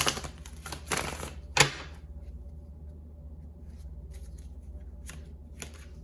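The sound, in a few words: shuffling tarot cards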